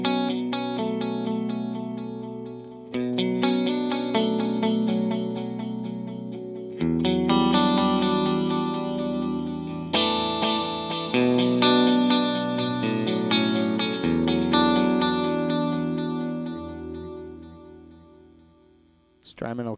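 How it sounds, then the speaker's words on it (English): Electric guitar chords and picked notes ring through an Eventide TimeFactor pedal set to tape echo, with repeating delayed trails smearing each phrase across a long, sustained passage. "I'm set on the tape echo because the El Capistan is a tape emulating delay pedal."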